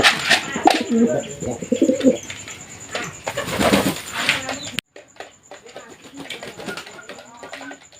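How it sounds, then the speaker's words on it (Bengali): Sirazi pigeons coo steadily and close by as they gather to feed, with soft wing flaps and rustling mixed in. "দেখতেছেন মাশাআল্লাহ কবুতরগুলো চলে আসছে।"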